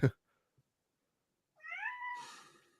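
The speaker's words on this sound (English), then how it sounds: "I hear a kitty cat." A single cat meows once, a clear drawn-out rising-and-falling cry after a short knock and a pause of near silence.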